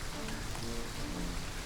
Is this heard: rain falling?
yes